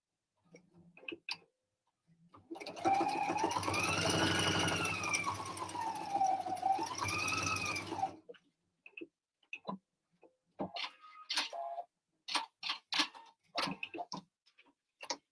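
A sewing machine runs a steady line of stitching along a fabric edge to form a waistband casing. Its motor whine rises and falls in pitch over a fast ticking needle rhythm for about five seconds, then stops, followed by scattered light handling clicks.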